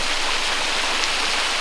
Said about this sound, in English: This waterfall is about 10 feet high